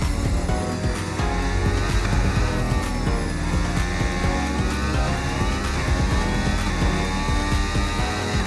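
Formula 1 race car in the F1 25 video game at Imola, engine screaming at high revs with rising and falling gear pitch sweeps, loud, continuous and close, like an onboard view.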